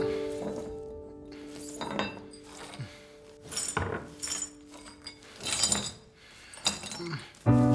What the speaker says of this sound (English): proceeds to sweep the broken pieces of glass